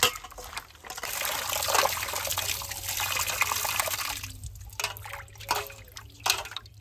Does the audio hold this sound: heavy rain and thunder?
no